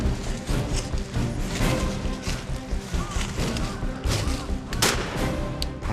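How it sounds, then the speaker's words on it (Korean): Gunfire rings out during a wild boar hunt by a capture team searching the countryside, with several sharp reports including a loud crack near the end over a busy, noisy outdoor background. "다시 이어진 총성."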